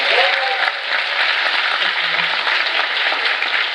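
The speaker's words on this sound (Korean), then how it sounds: "모두 한번 박수 한번 드리고 갈까요?" Applause from a department-store audience at a Lotte mini concert, a dense, steady wash of clapping that holds at even loudness throughout, with faint tonal sounds in the background.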